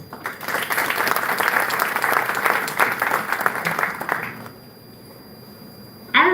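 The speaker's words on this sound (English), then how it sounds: "May I request everyone to give our distinguished guest a big round of" Applause for a distinguished guest at a Chameli Devi Group of Institutions ceremony rings out loudly through a large room. It holds for about four seconds, then fades to quiet room tone before a brief sharp sound at the end.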